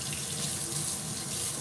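Tap water runs steadily into a sink to rinse a measuring cup, a continuous close hiss and splash with no break.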